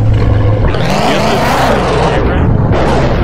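Car engine in a Roblox driving game revving up, a loud close roar that climbs and sweeps in pitch over a few seconds, with voices talking over it.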